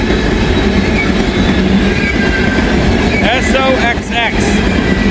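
Freight train boxcars roll steadily past nearby, a loud continuous rumble with clattering wheels and brief metallic squeals near the end, while someone speaks faintly over it.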